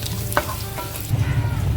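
Mustard seeds, fenugreek and crushed garlic fry in hot oil with a close sizzle, a few sharp clinks of a utensil against the pan, and a louder crackling burst toward the end; nobody speaks.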